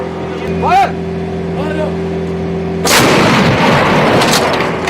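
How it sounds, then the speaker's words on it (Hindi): A Bofors artillery gun fires in a mountain war setting, one heavy booming blast with a broad rumbling tail, preceded by a steady mechanical drone and brief voices. "लड़ाई के रुख में बदलाव और ज्यादा तब नजर आया जब बोफोर्स तोप का इस्तेमाल शुरू हुआ"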